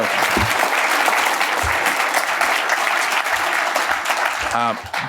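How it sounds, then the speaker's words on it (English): Audience applause for someone at a National Apprenticeship Week event in Chicago, a steady wash of clapping through the whole stretch with a brief voice near the end. "You can clap for her if you want"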